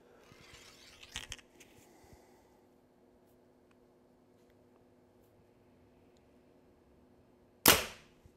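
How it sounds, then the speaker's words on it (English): A Mathews Lift compound bow fires an arrow from about 10 feet away: a single sharp, loud snap near the end, after a quieter clatter and low background noise. "All right, we're gonna shoot this thing from about 10 feet away."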